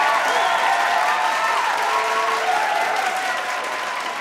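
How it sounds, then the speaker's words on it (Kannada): A studio audience applauds loudly for a team on a game show, a dense sustained wash of clapping close and even throughout, with a faint voice underneath. "ನಮ್ಮ ಶಾಂತಿ ತಂಡಕ್ಕೆ ಬರ್ಲಿ ಒಂದು ಜೋರದ ಚಪ್ಪಾಳೆ"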